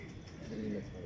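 Low, soft cooing from a pigeon at least 15 years old, a short rolling call in a quiet room with faint background murmur.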